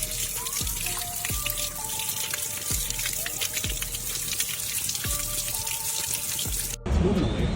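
Waterfall behind an eternal flame at Shale Creek Preserve in New York State, a steady broadband rush of falling water with splashing and dripping, loud and continuous throughout with no talk.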